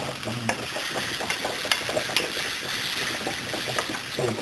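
Beef mixture for Mexican burritos browns in a hot pan with lime, stirred continuously, giving a steady close sizzle with repeated scraping strokes and a few sharp clinks of the utensil against the pan.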